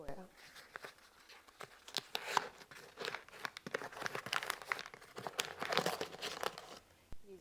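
Gift packaging around a K-2 gun cleaning mat is torn open up close, with irregular bursts of crinkling, ripping and crunching paper that come in quick clusters and quieter gaps.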